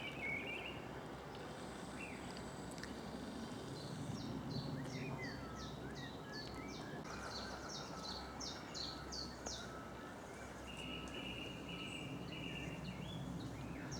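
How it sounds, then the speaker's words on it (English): Song thrush and chiffchaff singing outdoors on a countryside walk near Lilley, faint repeated chirpy phrases set against a soft steady background hum. "Song thrush, chiff chaff."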